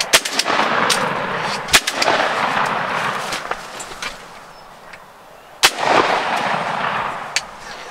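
Shotgun blasts during a spring turkey hunt in Pennsylvania: a few sharp, loud reports with echoing tails, two standing out strongly, plus smaller pops and rustling outdoor noise between them.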